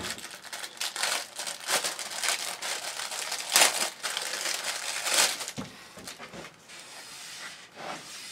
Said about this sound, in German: Und damit wische ich das Ganze jetzt erstmal ab